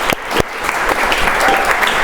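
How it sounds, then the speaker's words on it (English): A crowd at a professional leadership talk applauds, loud and steady with a few sharp individual claps standing out, lasting the full two seconds without speech. "How about a big round of applause, huh?"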